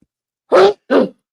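Two short, sharp sneezes burst out close by, less than half a second apart, against otherwise near-silent background.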